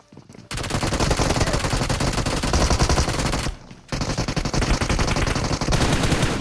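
Rapid automatic gunfire from a P90 submachine gun in a shooter video game, loud continuous bursts that stop briefly partway through before resuming.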